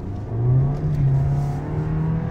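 Jeep Compass 4xe 1.3 hybrid accelerating hard in race mode, its engine note swelling and then holding a strong rising hum, with no talk.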